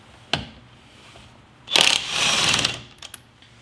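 A battery impact wrench removing a car's lug nuts: a sharp click, then a loud hammering burst of rattling impacts lasting about a second, followed by a few faint clicks.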